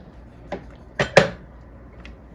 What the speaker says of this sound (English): And now we want to give it a stir.